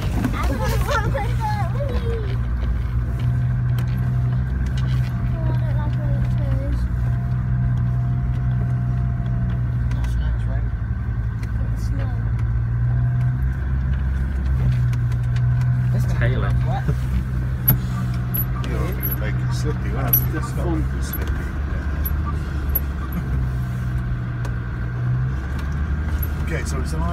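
An off-road car's engine drones steadily as it climbs a rocky hill, low and constant, with faint scrapes and knocks over it and someone talking throughout.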